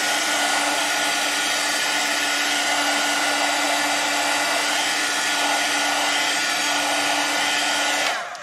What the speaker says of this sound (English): I'm just going to go ahead and heat set that, trying to be careful around my foil